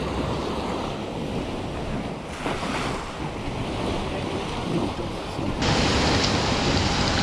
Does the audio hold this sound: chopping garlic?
no